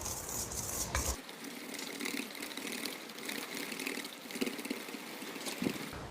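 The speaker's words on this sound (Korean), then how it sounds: "자, 또 휘스크로 잘 섞어줍니다" Softened butter and powdered sugar are whisked together in a bowl, producing a steady, continuous scraping and swishing that runs throughout at moderate level, with no voices.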